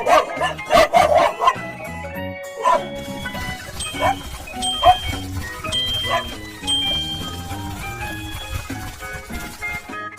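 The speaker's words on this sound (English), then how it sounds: "Dog." A cartoon dog barks in a few quick, bright yaps near the start, then music and playful effects carry on underneath.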